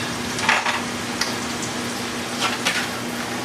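Mushrooms and asparagus seasoned with salt and pepper sizzle softly in a pan, with a few short scraping strokes as they are stirred around; a low steady hum sits underneath.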